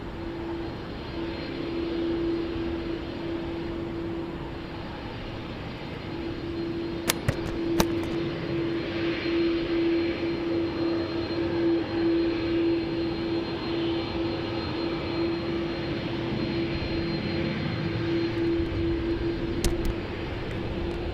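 Airbus A220-300 airliner engines at Montréal-Trudeau airport give a steady, distant jet roar with a sustained whine, broad and continuous, heard from a spotting position, with a few brief clicks.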